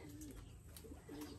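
Pigeons coo softly in a loft of racing pigeons, a couple of low rolling coos a short distance away against faint background noise.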